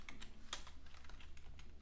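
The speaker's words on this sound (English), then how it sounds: "just I'm typing" Typing on a computer keyboard, quiet and close, with a quick irregular run of light key clicks and one sharper tap, heard alone without talk.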